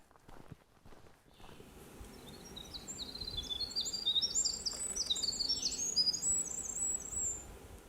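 Forest birdsong at a distance, including hermit thrushes and warblers, with repeated high whistled phrases and chirps over quiet background rustle, after a brief soft knock at the start.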